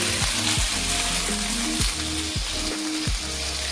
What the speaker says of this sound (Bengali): এরপর কচুটাও হালকা একটু তেলে ভেজে নিচ্ছি,